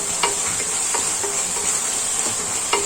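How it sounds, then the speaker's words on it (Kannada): Tomato gravy being stirred in a pan over high flame, with a steady sizzle under a few soft, spaced scrapes of the spoon against the pan, close by and with no one talking. "ಹೀಗೆ ಅದನ್ನು ಮಿಕ್ಸ್ ಮಾಡ್ತಾ ಇರಬೇಕು"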